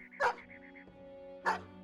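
War dog in the Battle Brothers game giving two sharp, close barks about a second apart, over a low steady background tone and a faint tonal chime pattern.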